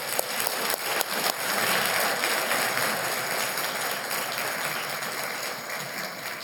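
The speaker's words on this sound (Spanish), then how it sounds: "Démosle fuerte aplauso entonces a nuestro Señor." Church congregation applauding during a Spanish-language sermon, a steady broad wash of clapping that swells after the first second and holds loud and continuous, with no voices on top.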